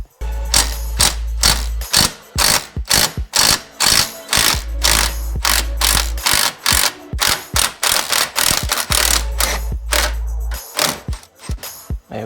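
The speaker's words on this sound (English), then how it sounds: "So now we're going to undo this nut over here, 15mm bolt." A hand ratchet clicks in quick rhythmic strokes while undoing a 15mm suspension nut on a Mk1 Ford Focus, loud and close, with short pauses between runs of clicks.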